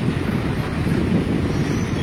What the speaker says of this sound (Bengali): আমাদের ট্রেন এখন কল্যাণী সীমান্ত স্টেশনে ঢুকছে।